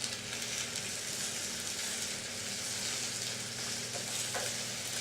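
Mushrooms and courgettes fry in a pan with an even, moderately quiet sizzle that runs throughout, and a faint stir or tap comes near the end; no one talks.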